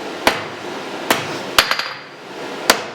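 A blacksmith's hammer strikes a steel bar on an anvil while drawing a taper: five sharp, ringing metallic blows at uneven intervals, close and loud, with a quick bounce of lighter taps after the third.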